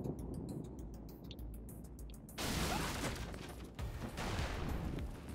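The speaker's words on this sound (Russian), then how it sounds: "О, она еще и взрывается." A blast from the action video game Wanted: Dead bursts in loud and sudden, a broad roar that swamps earlier rapid clicks and gunfire-like ticks, then lingers with crackling debris and a second surge before fading.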